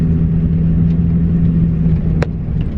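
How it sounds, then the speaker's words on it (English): A car reverses slowly onto gravel, giving a steady low engine hum with faint crunching, close and continuous, and a brief sharper sound near the end. "I'm backing up slow."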